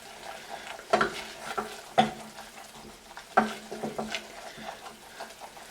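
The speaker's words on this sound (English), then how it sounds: "Then you just add your flour. Just stir that in." Flour stirred into melted butter in a pan for béchamel sauce, soft frying sizzle broken by a few sharp scrapes and taps of the spoon against the pot, close and quiet with no speech.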